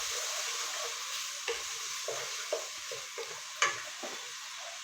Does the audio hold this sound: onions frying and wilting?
yes